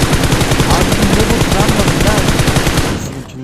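Rapid automatic gunfire in the PUBG Mobile battle royale game on the Nusa map, a loud continuous burst of shots close by that cuts off near the end, with a voice faintly under it.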